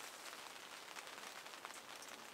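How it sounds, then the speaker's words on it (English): Light rain falling outside an off-grid wilderness camp, a steady, even hiss of drops pattering on surfaces throughout, soft and continuous with no voices. "It's starting to rain a little bit out there"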